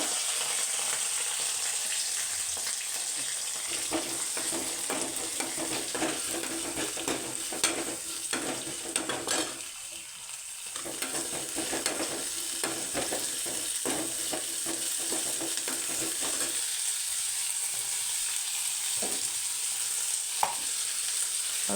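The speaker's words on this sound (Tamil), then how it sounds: "ஒரு வெங்காயம் கருவேப்பிலை போட்டுக்கலாம். ஒரு வெங்காயம் வச்சு வச்சுருக்க தாளிச்சிக்கலாங்க." Onion and curry leaves tempering in hot oil, a steady loud sizzle and crackle filling the whole clip with occasional stirring scrapes and no voices.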